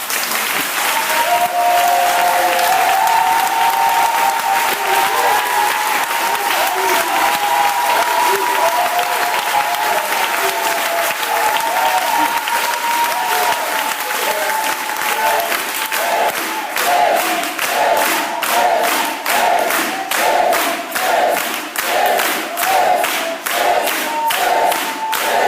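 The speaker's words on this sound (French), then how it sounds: "On n'a qu'à l'acclamer un peu." Church congregation at a Sunday service breaking into sustained, loud applause with cheering voices throughout, the clapping turning into a steady rhythmic beat near the end.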